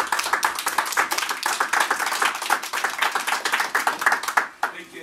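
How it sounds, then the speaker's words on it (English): A group claps in quick, uneven bursts at a welcome event for returning student robotics competitors, close and fairly loud, tapering off at the end as a voice begins to speak. "let's give them a round of applause"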